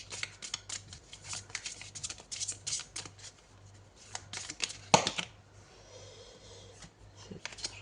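Tarot cards being shuffled by hand in a steady run of close, papery riffling and flicking, with a sharper slap near the middle before the shuffling softens into quieter rustling.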